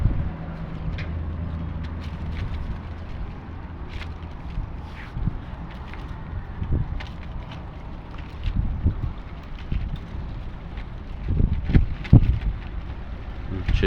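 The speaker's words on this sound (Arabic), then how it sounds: "يمكن سامعين الهوا فوق شغال، انا بسجل على السطح" Wind blows across the rooftop of an abandoned house, carrying sand and red dust. It makes a low, continuous roar with gusty rumbles and scattered small knocks and rattles, with no talking.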